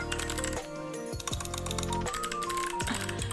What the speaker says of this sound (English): Listen to my keyboard ASMR while I look it up.